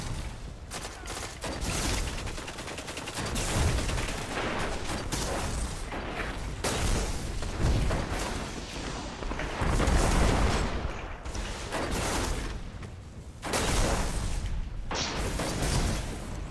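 Rapid gunfire and booming weapon blasts in the video game Destiny during an Iron Banner multiplayer match, dense bursts of shots repeating loudly throughout with brief lulls between volleys.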